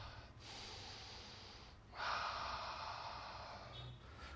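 Slow, deep yoga breathing in an easy seated pose: a long, soft breath is followed by a stronger, airy exhale close to the microphone, faint but steady and without talk.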